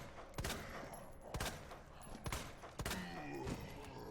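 Sharp, isolated gunshots in the Resident Evil 2 Remake, four spaced cracks over a few seconds at low level, with faint game ambience between them.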